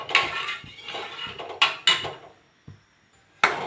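A spoon scrapes and knocks against a pan while colostrum milk is stirred to keep it from sticking, sharp clinks at irregular moments amid soft scraping, close and fairly quiet.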